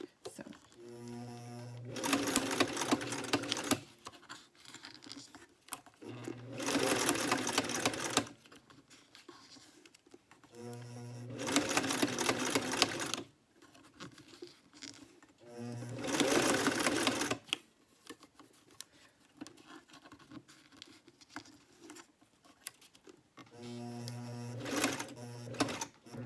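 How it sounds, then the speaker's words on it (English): A sewing machine stitches strips of paper ribbon in four or five loud whirring bursts a few seconds long, each separated by quieter pauses with faint handling noise. "I won't talk too much because the sewing machine can be loud."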